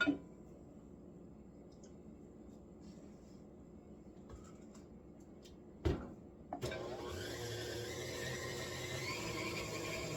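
Electric mixer beating whoopie pie batter with cocoa powder in a bowl: a faint quiet stretch with light clicks, then a sharp knock and a steady whirring motor hum that runs to the end.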